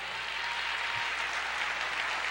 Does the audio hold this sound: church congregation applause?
yes